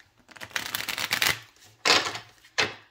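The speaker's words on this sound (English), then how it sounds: "Let me shuffle this once" Island Time Wellness Love Oracle cards are shuffled by hand, a close, crisp riffling flutter in one long run followed by two shorter bursts.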